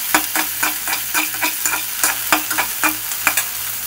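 Tomato and cabbage stir-fried in just a spoonful of oil, a steady sizzle broken by repeated scraping stirs in an even rhythm, close and fairly loud with no voices.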